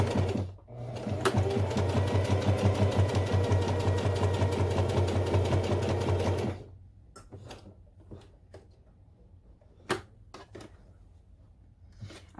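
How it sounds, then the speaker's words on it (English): A sewing machine runs steadily for about six seconds, a fast even stitching rhythm, as it sews around a box line on fabric for a beginner's zippered pouch; the motor then stops, leaving a few light clicks and handling noises. "you're going to sew around the box and back up to that line"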